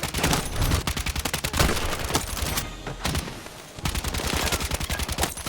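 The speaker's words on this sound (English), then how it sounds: "It's the UMP40. This gun is terrible." A UMP40 submachine gun in a shooter game fires rapid, loud automatic bursts, broken by one short pause before the rattling fire resumes.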